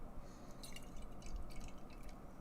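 Cherry berry sour beer from Cinderlands Beer Co. pours into a small sour glass, a soft close trickle with light fizzy drips and gurgles over a quiet background, with no talking.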